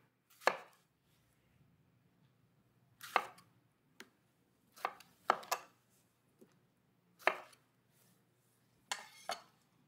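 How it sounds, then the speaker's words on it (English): Fresh tomatillos being roughly chopped with a knife on a cutting board in a kitchen: about eight sharp, separate chops spaced irregularly, close and clear against a quiet background. "I'm going to chop them up roughly"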